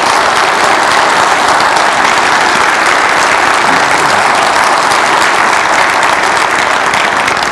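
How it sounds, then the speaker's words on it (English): Sustained, dense audience applause for the police and fire departments at a State of the City address in Franklin, filling the room loudly and evenly from start to finish without pause. "So I ask us this morning to applaud our police and fire departments that keep us safe."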